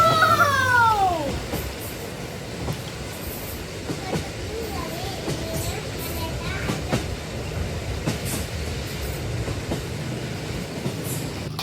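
Model train running on a homemade diorama track, a soft continuous rolling rumble with faint clicks throughout, a brief whistle-like squeal at the start, and a voice speaking.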